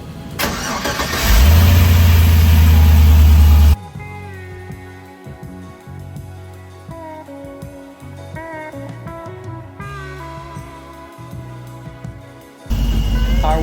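Restored 1953 Ford F-100 pickup engine cranking and catching with a loud burst, then settling into a steady idle with small revs, before another loud surge near the end.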